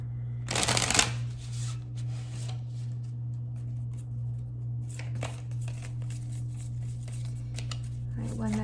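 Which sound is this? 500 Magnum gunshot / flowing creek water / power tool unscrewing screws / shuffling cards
shuffling cards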